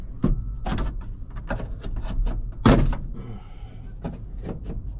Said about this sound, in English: let's go ahead and start getting some of these door panel clips off